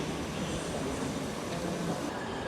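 A train rolls along the tracks in Kraków, giving a steady, continuous broadband rumble and rattle that holds an even loudness throughout with no voices.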